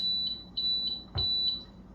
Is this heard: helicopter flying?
no